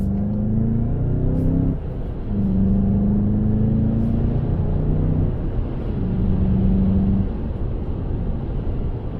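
A 2019 VW Jetta GLI with a manual gearbox accelerating hard, its engine note rising through the revs in steady pulls broken by brief dips at gear changes, loud and close from inside the cabin.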